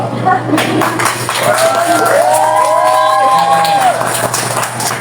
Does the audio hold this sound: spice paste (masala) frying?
no